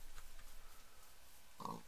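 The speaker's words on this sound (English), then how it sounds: "Ooh, some pigs." Minecraft pigs in a survival world give a short, blocky oink near the end, after a quiet stretch of faint game ambience.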